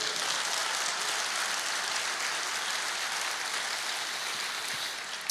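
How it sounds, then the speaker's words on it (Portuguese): A church congregation gives sustained, even applause during a sermon, a dense hiss of many distant hands that holds steady throughout. "Você pode aplaudir o Senhor?"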